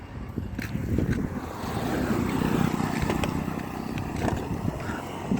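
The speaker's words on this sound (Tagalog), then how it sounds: "Sander, may motor ha, parating" A motorized tricycle approaches along a rough, bumpy road, its engine a steady low drone that swells slightly as it nears, with wind buffeting the microphone throughout.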